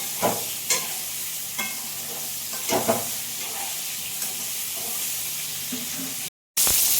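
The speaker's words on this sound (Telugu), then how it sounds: "ఇవన్నీ కాకరకాయలు వేగిపోతూ ఉన్నాయి" Small bitter gourds fry in a pan with a steady, close sizzle and hiss, broken by a few sharp stirring knocks and scrapes.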